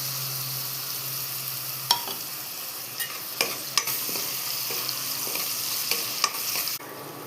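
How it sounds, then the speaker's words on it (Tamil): Sliced bitter gourd fries in hot oil with a continuous hissing sizzle, punctuated by sharp clicks and taps as the pieces are stirred. "எண்ணெய் வந்து லைட்டாக சூடு ஏறினோடனே இந்த வெட்டி வச்சுருக்க பாவக்காயை அதில் போட்டு நல்லா வதக்க போகிறேன்"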